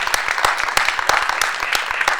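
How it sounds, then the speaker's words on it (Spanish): Audience applause at a theatre school gathering, a smaller group clapping with distinct individual claps audible in a lively, steady patter close to the microphone. "a Hugo, a Ramón, a Tamara, un fuerte aplauso"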